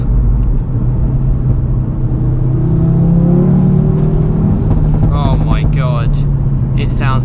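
A Stage 2 tuned Audi RS3 sports car roars and revs on a mountain road, its loud engine note rising and falling throughout, with people talking over it toward the end.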